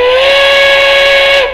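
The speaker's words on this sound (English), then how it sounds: "you're going to hear a long blast of the whistle" Long steady steam whistle blast from a Tsunami2 model train sound decoder, a loud, bright, sustained tone lasting over a second before tapering off abruptly.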